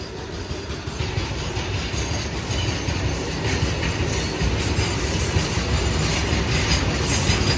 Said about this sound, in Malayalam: WDG4G രണ്ട് ബോക്സിനായിട്ട് പോകുന്നു.